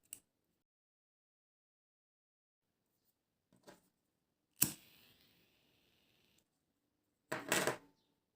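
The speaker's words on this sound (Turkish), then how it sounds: "Ve fazlalık ipimi kesiyorum." Scissors snip away the excess thread of a beaded pearl bracelet: two crisp, close cuts a few seconds apart, with a fainter click just before. The background is otherwise quiet and nobody speaks.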